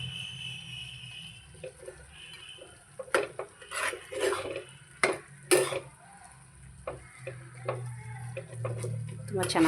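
A spoon scrapes and clinks inside a pot as Maggi noodles with vegetables are stirred, giving intermittent metallic knocks over a low background hum and a steady faint tone, with speech nearby.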